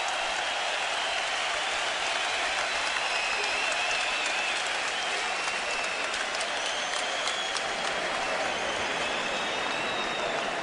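A boxing crowd at an Andre Berto vs David Estrada fight cheers and applauds after a round, a dense, steady roar of clapping and shouting that fills the arena for the whole stretch without letting up.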